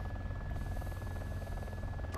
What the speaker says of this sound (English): Still helicopter overhead too.